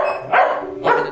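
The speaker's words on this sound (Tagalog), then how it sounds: "Don't bark, okay?" A dog barks twice in quick succession, loud and close, in a quiet room at home.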